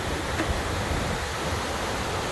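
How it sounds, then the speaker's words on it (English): A big waterfall at an alluvial fan in Rocky Mountain National Park roars as a steady broadband rush of falling water, constant and fairly close, with no voices over it. "Well, there's the big waterfall."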